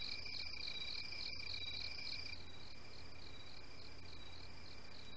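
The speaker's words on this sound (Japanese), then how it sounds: "このスズムシの音だけ聞くとなんか僕夏っぽい" Bell crickets chirp in the video game Clock Tower Ghost Head, a continuous high-pitched trilling that pulses in a steady rhythm. It is quiet and alone, with a brief interruption early on before a smoother, evenly repeating pattern.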